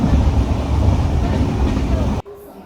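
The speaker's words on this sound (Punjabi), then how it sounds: "ਇਹ ਭਾਈ ਉਹੀ ਟ੍ਰੇਨ ਆ ਜਿਹੜੀ ਆਪਾਂ ਆਉਂਦੇ ਹੋਏ ਆਏ ਸੀਗੇ" A running passenger train gives a loud, steady rumble and rattle heard from close by, which cuts off abruptly near the end to a quiet background.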